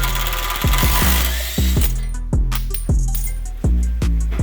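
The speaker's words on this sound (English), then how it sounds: "That would be my nut running away." Loose nut from a 2014 Ford Escape wheel bearing job dropping and bouncing with a series of metallic pings, each ring decaying, over loud steady background noise.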